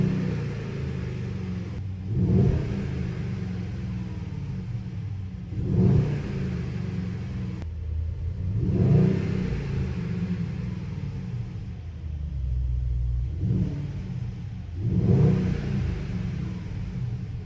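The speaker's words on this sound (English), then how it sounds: "Now let's listen to the V8 of this." A Mercedes-AMG GLE 63 S Coupe V8 revs up several times, each rev swelling to a roaring peak before settling back to a rumbling idle, close and loud.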